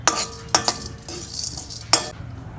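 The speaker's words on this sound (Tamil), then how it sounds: "நான் முதல்ல வச்ச எண்ணெயிலே தான் அதை வதக்கிட்டு இருக்கிறேன்" Chana dal gets dry-roasted and sautéed in a little oil in a pan for bisibelabath powder. A spoon gives a few sharp clinks and scrapes against the pan over a faint sizzle, close and with no voices.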